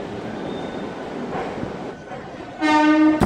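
A MEMU train pulls in at a platform of KSR Bengaluru station, a steady rumble of rail noise ending in a loud sustained horn-like tone with bright harmonics near the close.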